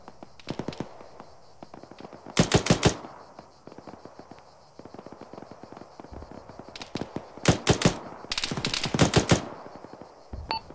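Rapid machine gun bursts crackle in a military video game, several loud clusters of shots near 2.5, 7.5 and 9 seconds over lighter scattered fire, with no speech.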